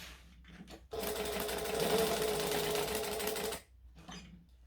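A sewing machine stitches through a bag in one steady burst of rapid mechanical chatter lasting nearly three seconds, with quiet handling noise before and after.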